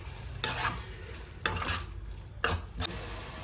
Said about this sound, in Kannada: ಸೊ ಈಗ ಮೊಸರು ಹಾಕಿ ನಾನು ಸ್ವಲ್ಪ ಮಿಕ್ಸ್ ಮಾಡಿದ್ನಲ್ಲ